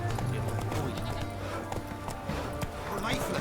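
Roach, the horse in The Witcher 3 video game, gallops with quick, steady hoofbeats under game voices and a busy background mix.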